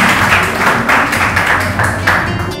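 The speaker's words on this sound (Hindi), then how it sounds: "एक बार जोरदार तालियां आप लोगों के लिए।" Crowd applause at a live Hindi poetry recital, a steady dense wash of many hands clapping loudly throughout, swelling slightly in waves before tapering near the end.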